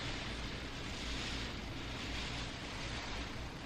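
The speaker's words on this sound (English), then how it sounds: "It is pouring rain." Heavy pouring rain as a dense, steady hiss of broadband noise, even and unbroken for the whole stretch, with no voices over it.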